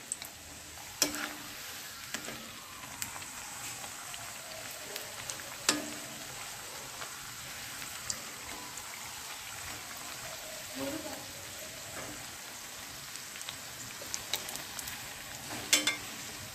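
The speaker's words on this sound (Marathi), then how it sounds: "आपले थोडी ब्राऊन होईपर्यंत तळून घ्यायचे आहेत" Slices of raw banana bhaji pakode fry in hot oil with a soft continuous sizzle, punctuated by occasional clinks and stirring scrapes near the pan.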